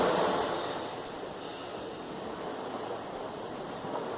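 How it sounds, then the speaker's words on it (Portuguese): Sea waves wash in as a steady broadband rush, a continuous close surf hiss that swells slightly at the start and then holds even, with no voices. "A cada barulho do mar a gente..."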